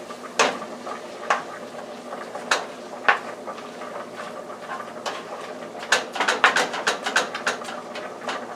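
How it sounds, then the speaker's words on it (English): Ground beef in a pan being stirred with taco seasoning, a utensil scraping and clinking against the pan in scattered strokes, with a denser burst of clatter near the end over a faint sizzle. "Now let's mix in our seasonings with our ground beef."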